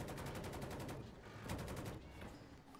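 Dense video game gunfire fills the whole stretch: rapid automatic bursts and overlapping shots crackling loudly and continuously, with a brief dip near the middle before the volley resumes.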